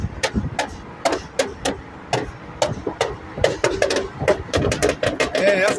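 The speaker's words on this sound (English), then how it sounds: "Yeah, that's a lot of pops and bangs" Sharp, irregular exhaust popping and banging cracks from a tuned car come in quick bursts over a low engine rumble, some closely spaced, others spread out.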